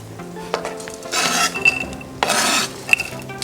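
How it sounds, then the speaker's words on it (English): Vegan meatloaf ingredients being mixed by hand in a bowl: wet squelching and stirring bursts with light scrapes and clinks against the bowl, in two main surges, close and moderately loud, no talking. "We are gonna hand mix this"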